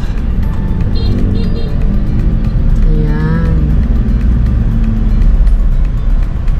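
City street traffic heard from inside a car waiting at a stoplight on the way to Manila, with a steady close engine rumble, a few short horn-like tones and brief speech over it.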